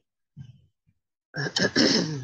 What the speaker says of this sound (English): Sorry about the clearing of the throat.